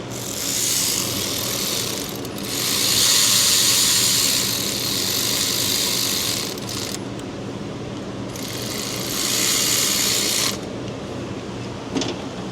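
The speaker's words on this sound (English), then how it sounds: "Clicky wrench coming in." Ratcheting and mechanical working sounds from tools torquing bolts on a Ford 5.4 Triton 3-valve engine during a timing chain repair, with two longer loud stretches of ratchet noise and a sharp click near the end.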